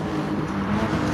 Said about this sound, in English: Here goes the Porsche on the outside lane.